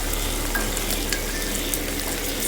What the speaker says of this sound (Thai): ผัดพริกให้หอมให้ตีขึ้นจมูกนะครับ